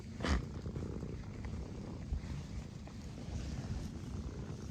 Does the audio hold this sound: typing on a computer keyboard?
no